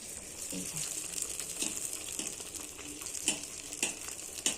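Pitha cakes frying in a wok give a steady bright oil sizzle with small pops and clicks scattered throughout, fairly close and continuous, with no talking.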